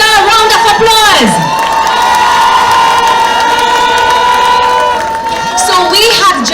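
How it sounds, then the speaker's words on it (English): A large outdoor crowd at a political public meeting on a seaside promenade cheers and shouts loudly with applause mixed in, a dense continuous roar with whoops and a sustained tonal horn-like blare running through it. "Surely we can give our brother a round of applause."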